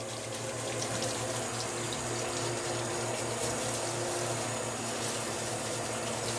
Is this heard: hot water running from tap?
yes